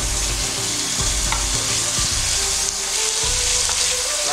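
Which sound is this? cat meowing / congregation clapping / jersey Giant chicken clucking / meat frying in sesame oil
meat frying in sesame oil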